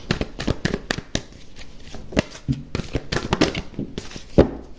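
Tarot cards being shuffled by hand in quick, irregular bursts of papery riffling and slaps, close and fairly loud, with short pauses between bursts.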